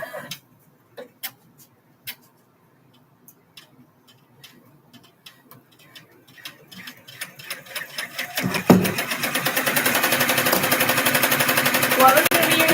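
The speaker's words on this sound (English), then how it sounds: "Now I'm going to stitch my fabric on." A sewing machine stitching fabric, starting with scattered ticks of slow, single stitches and building into a steady, loud, rapid mechanical whir that runs to the end.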